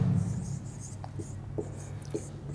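Chalk taps and scratches across a board during a Class 8 geometry lecture on circles, a few short strokes sounding close over faint room hum, with no talking.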